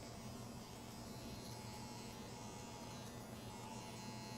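An electric hair clipper buzzes steadily while cutting a mid drop fade, its lever fully open, giving a constant close motor drone with no breaks and no speech.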